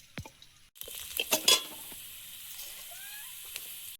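Fenugreek seeds, dried chili and chopped garlic crackle and sizzle sharply in hot oil as a tempering for doi begun; a few clinks come first, then a steady close sizzle with bursts of spattering, with no voices.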